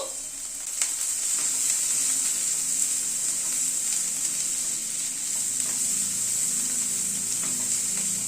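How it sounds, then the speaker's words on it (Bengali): Salted food sizzles and fries steadily in a pan for several seconds, with a spoon scraping and stirring through it at intervals, close and alone with no voices. "নুনটাকে দিয়ে একটু নাড়াচাড়া করে নিচ্ছি"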